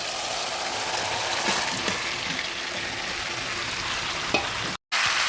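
Boiled jackfruit pieces fry in a hot pan for a Bengali mixed-vegetable pachan, giving a steady, loud, dense sizzle with faint stirring scrapes and a brief dropout near the end.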